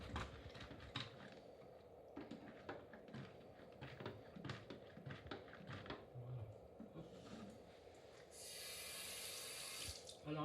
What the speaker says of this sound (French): le but du jeu, c'est de le rincer